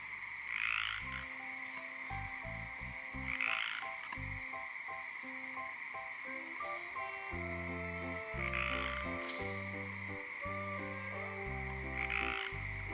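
A dense chorus of frogs croaking and trilling at a night campsite in Olympic National Park, with louder nearby croaks surging every few seconds over a constant high-pitched background chorus.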